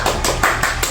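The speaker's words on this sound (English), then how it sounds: "laugh track and clap track here" A clap track sound effect on a podcast, a short loud burst of several crisp claps in an uneven rhythm, alone with no talk over it.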